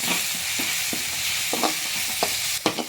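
Onion and tomato cook down in hot oil with chili powder and garam masala, giving a steady sizzle while a spoon scrapes and stirs the pan in a few soft knocks. No one speaks.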